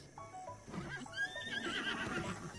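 A horse in Zelda Breath of the Wild whinnies in a rising, wavering call, with a soft clip-clop of hooves underneath, moderately quiet and with no talking.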